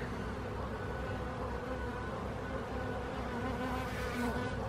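A steady, dense buzzing of many calm honeybees at an open hive, close and continuous, with a low droning hum throughout and no voices.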